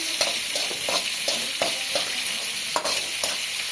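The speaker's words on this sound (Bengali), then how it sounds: "পেঁয়াজ আর রসুন ঝাল দিচ্ছি" Onion and garlic sizzling in oil in a pan, a steady fry hiss with soft, regular stirring scrapes throughout and no voices.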